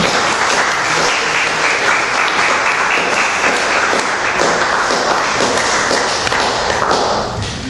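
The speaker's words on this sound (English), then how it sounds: "Please, with a round of applause, welcome up the amazing Arabian," A live poetry-night audience applauds to welcome a poet to the stage, dense sustained clapping filling the room, loud and continuous before tapering slightly at the end.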